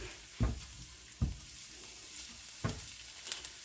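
Eggplant slices fry in a pan on medium heat with a soft, constant sizzle, punctuated by four or five quiet thuds and scrapes of a spatula moving them; fairly faint, no talking.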